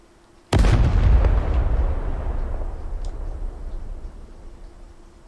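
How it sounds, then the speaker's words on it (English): A vehicle blows up in an F1 racing video game set at Abu Dhabi: one sudden loud boom with a rumbling tail that slowly fades over several seconds, heard alone. "My explosion was the vehicle exploding."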